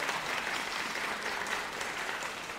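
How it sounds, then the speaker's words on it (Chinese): A church congregation applauds during a Sunday worship service, steady sustained clapping from many hands filling the room throughout, with no voices over it. "我们为他们拍手好不好？"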